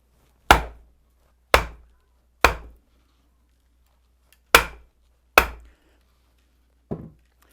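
Sharp wooden knocks from a mallet striking a froe that splits wood for spoon making, six distinct blows at uneven spacing with silence between them. The last knock is softer.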